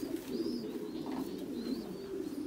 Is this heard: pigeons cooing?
yes